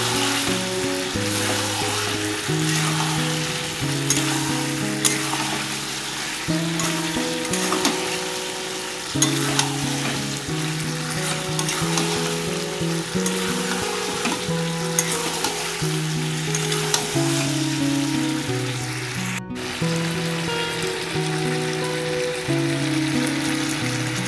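Chicken frying for Bengali chicken kasha, stirred continuously without water, a dense crackling sizzle running throughout with repeated scraping stir strokes and a brief gap near the end, no speech.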